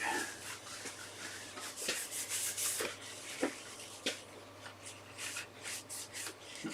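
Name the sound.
wiping a piece of timber with a rag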